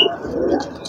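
Pigeons coo at a pigeon market in Brebes, a brief, close, low throaty coo with a faint chirp overlapping near the end.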